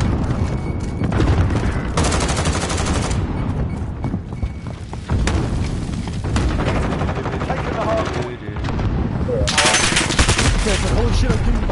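Intense video game firefight with bursts of machine-gun fire and gunshots layered into a near-continuous barrage, loud and dense with brief lulls and a few heavy thumps.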